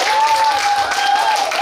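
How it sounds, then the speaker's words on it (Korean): A singing-class audience claps together in a dense, steady burst of applause lasting under two seconds, loud and close, with a sustained tone running beneath it. "박수 한번 주시면 좋겠습니다"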